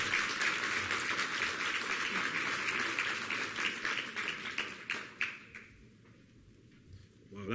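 Audience applause at a Hispanic health summit for Secretary Perez: dense, sustained clapping from a large crowd that thins out and fades near the end.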